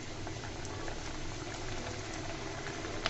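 Pakon pitha snacks frying in hot oil, a steady broadband bubbling sizzle that holds evenly throughout with no voices over it.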